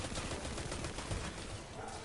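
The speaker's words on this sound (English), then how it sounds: "Taking some bullets here." Rapid gunfire from the Forsaken video game, a dense, continuous burst of shots at moderate level with no voices.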